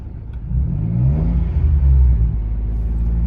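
A Citroen C1 city car accelerates hard in first gear, heard from inside the cabin as a loud, low engine drone whose pitch climbs steadily with the revs, with no talking.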